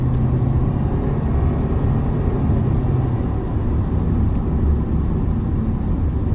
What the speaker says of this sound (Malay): Itu bunyi CVT dia, ngauman